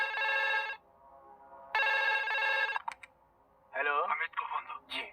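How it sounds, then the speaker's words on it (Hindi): Telephone in a Hindi police drama film rings loudly in two long bursts of bright electronic trilling, separated by a pause, followed by someone speaking. "हेलो, अमित को फोन दो।"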